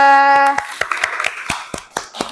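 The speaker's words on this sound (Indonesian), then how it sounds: "Kita beri tepuk tangan untuk kelompok 2." A small group of people in a classroom clap hands for a presenting group, a handful of distinct sharp claps spaced out after a short tonal sound at the start.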